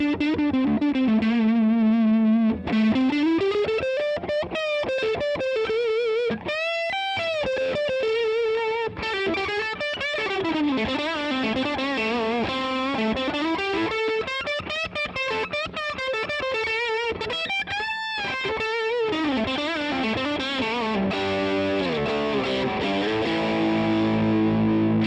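An electric guitar on its neck pickup runs through a Mesa Boogie Mark V amplifier on channel 2 in Mark I mode, playing a distorted, singing lead with bends and sustained notes, loud and continuous with no voices.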